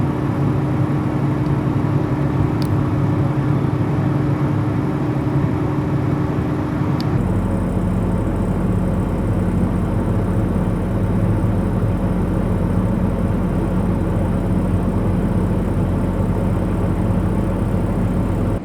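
Forage chopper and silage wagon at work harvesting silage in a field, a steady, loud low engine drone running throughout, with a sharp shift in tone about seven seconds in as the machinery changes load.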